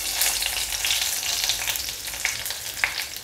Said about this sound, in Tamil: கடுகு பொரிஞ்சிருச்சு. இந்த டயத்தில் கொஞ்சமாக கருவேப்பிலை.